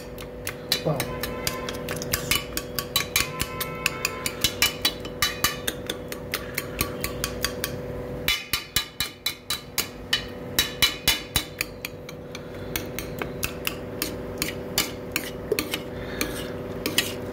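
A metal spoon mashes and stirs cooked dal with amaranth leaves in a pot, making a steady run of rhythmic clinks and taps against the pot that continue through a brief pause, up close.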